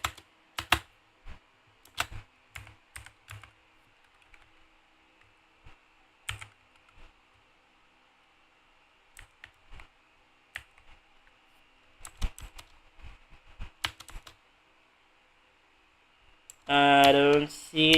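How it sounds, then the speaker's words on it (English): Scattered keystrokes on a computer keyboard in short bursts and single taps with pauses between, close and fairly quiet, ending with a voice starting to speak. "I'm gonna type in Ubisoft Montreal."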